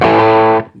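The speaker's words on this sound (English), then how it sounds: "All right, let's go to the humbucker sound." Electric guitar on its humbucker pickup through a 1969 Fender Pro Reverb amplifier, a single loud, slightly distorted chord ringing for over half a second before being cut short, followed by brief quiet string noise.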